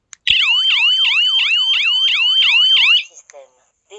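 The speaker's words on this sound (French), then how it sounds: "c'était pour vous faire entendre la sirène" A home alarm system siren set off by its SOS panic button blares at close range in a fast, repeating, warbling electronic wail. It runs for nearly three seconds and then cuts off abruptly.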